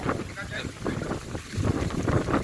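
Strong wind roars and buffets continuously with broadband rushing noise, close and loud, with voices faintly mixed in underneath.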